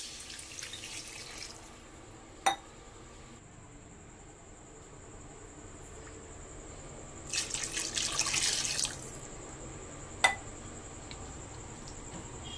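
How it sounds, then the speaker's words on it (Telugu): Water is poured from a glass into a pan of rava for upma, heard as two short, quiet splashing pours separated by a lull, with a couple of sharp clicks in between. "ఇప్పుడు ఇదే గ్లాస్తో ఒక 2-3/4 గ్లాసులు వాటర్ అనేది మనం పోసుకుందాం"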